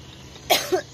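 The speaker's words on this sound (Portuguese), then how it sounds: "Não tá fácil essa tosse aí" A run of three harsh coughs sounds close to the mic, a long burst followed by two shorter ones over a faint background, on a chilly day outdoors.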